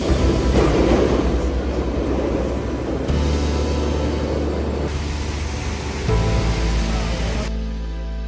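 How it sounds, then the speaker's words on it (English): Steady rumbling London train noise on the rails, loud and continuous, with shifts in tone as the carriage rolls along. "we're on our second train of the day"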